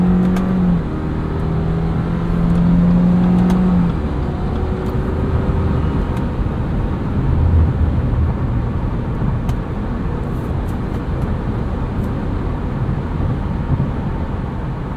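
2022 Subaru Forester Wilderness cruising along a road, giving a steady broadband engine and road rumble with a brief low tone early on, constant and close from inside the cabin, with no talk.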